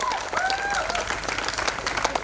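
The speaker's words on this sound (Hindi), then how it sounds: "इनके लिए जोरदार ताली" Audience applause at a stage show honouring the production team, a broad patter of clapping under a light wash of crowd noise, with whistles rising over it early on.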